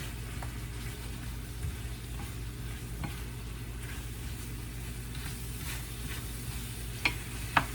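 A sauce for pork chops is stirred in a pan, giving a continuous low sizzle with scattered soft scrapes and taps of the utensil, a couple of sharper clicks near the end, and no talking.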